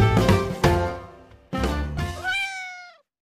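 Young kittens, five and two months old, give several loud close meows, a couple of short calls followed by a longer rising and falling cry.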